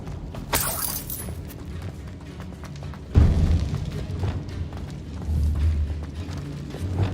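A Confringo blasting spell in the wizarding game Hogwarts Mystery goes off with a sudden booming, shattering burst midway, after a quieter crackle and a brief bright flash of sound earlier, then a rumbling tail.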